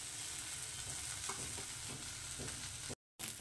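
Taro leaves fry in a pan with radhuni spice, a dense steady sizzle with soft stirring knocks throughout, fairly quiet, broken by a brief gap of silence near the end.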